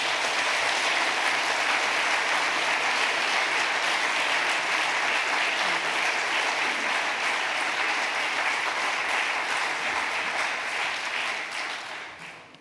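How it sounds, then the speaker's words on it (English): An assembly audience at the Religions for Peace World Assembly plenary applauds to adopt a motion by acclamation, a dense, steady wash of many hands clapping that holds loud throughout and tapers off at the very end. "we ask the Assembly to affirm by acclamation, which apparently means you clap."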